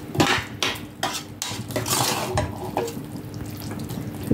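Prawns are stirred in a pan for a dry gravy, with a spatula clattering against the metal in uneven strokes over a soft background sizzle, close by.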